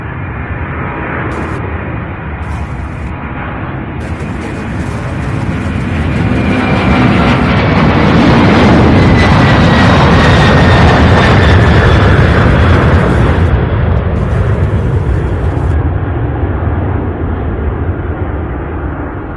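A heavy cargo jet on runway 17 right at Louisville International Airport, its loud engine roar swelling and building to a sustained thunderous peak before easing off slightly.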